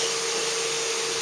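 A vacuum cleaner runs steadily in another room of a home, a constant airy whooshing drone at moderate level with no talking.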